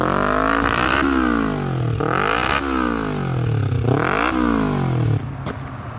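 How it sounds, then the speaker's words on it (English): A Kawasaki Ninja 250 with a stainless header and full exhaust revs hard close by, with repeated rising and falling engine sweeps before the sound cuts lower near the end. "Listen to that exhaust."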